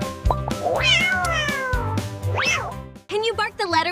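A cat meows in a children's alphabet song, several drawn-out rising and falling meows up close over a bouncy musical backing, followed by a sung voice.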